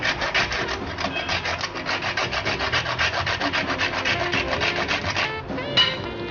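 Nutmeg is grated by hand over pumpkin soup, giving a close series of quick rhythmic scraping strokes with no talking.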